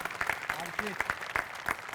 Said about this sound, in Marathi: आर्ट डिपार्टमेंटसाठी टाळ्या